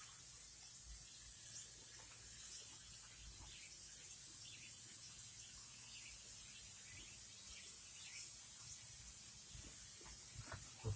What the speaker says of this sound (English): spray some vegetable oil over it as a release agent